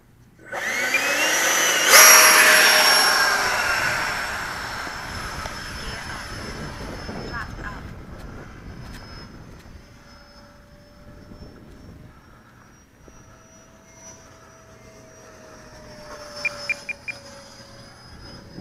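A Freewing T-33 RC model jet, flying again after a crash repair, spools up loudly with a whining ducted-fan roar on takeoff. The roar then fades into a thinner, distant whine as the jet flies away.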